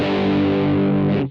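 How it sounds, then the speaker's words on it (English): An HSS electric guitar on its bridge humbucker, run through a Boss GT-100, sounds one sustained distorted chord, thick and loud, ringing steadily before stopping abruptly. "I'm using the humbucker on the bridge,"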